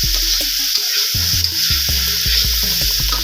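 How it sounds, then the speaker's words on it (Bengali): Onion paste drops into a hot wok for late-night noodles and sizzles loudly, a dense steady hiss up close with low knocking tones beneath it. "এইমাত্র পেঁয়াজ বাটা কড়াইয়ের মধ্যে পড়লো"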